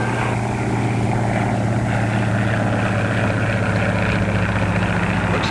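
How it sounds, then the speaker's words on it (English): A private propeller plane drones overhead, a steady loud engine hum with no talk, holding constant through the whole stretch. "Look at that plane up there."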